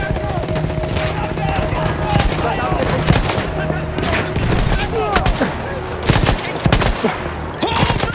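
Rapid bursts of Battlefield 1 campaign gunfire crackle continuously, with volleys and single shots over a dense battle din, loud and close throughout.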